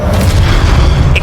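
A Stupefy spell cast in Hogwarts Legacy, a heavy low booming magical impact that fills the whole moment, loud and close, with a brief bright shimmer near the end.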